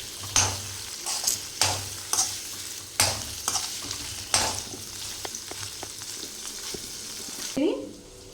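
Paneer fries in a pan for Hyderabadi-style paneer masala, a soft sizzle broken by repeated sharp scrapes and clanks of a spatula stirring against the metal, with a short voice near the end.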